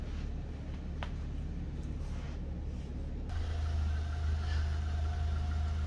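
A car engine idles with a low, steady hum, growing a little heavier partway through; no voices.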